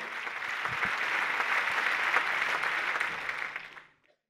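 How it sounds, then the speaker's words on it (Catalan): Clapping from a political campaign rally crowd holds as a steady, dense wash of applause for several seconds, then fades quickly into silence. "rebem els aplaudiments amb uns segonets de delay"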